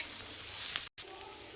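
Cauliflower (gobi) roasting dry in a pan, a soft steady sizzle with light stirring scrapes that cuts out briefly near the end before resuming.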